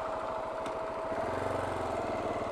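A motorbike engine idling on a dirt route near Deep Creek Hot Springs at Bowen Ranch, a steady low throbbing putter that stays even throughout, close and uninterrupted.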